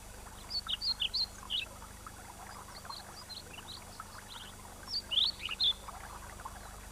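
Bird song in Welsh woodland in mid-April, fitting a male pied flycatcher: two bursts of bright, high chirping phrases, one early and one late, over a soft, steady background hiss.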